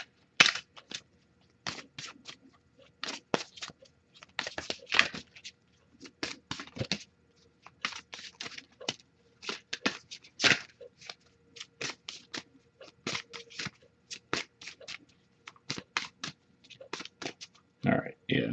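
Tarot cards are shuffled in short, crisp bursts of riffling and patter, close and fairly quiet, repeating irregularly with brief pauses between.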